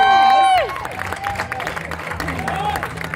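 At a community recognition for a youth 8U sports team, a crowd breaks into applause and scattered cheering right after a voice speaks, the clapping continuing steadily but moderately loud.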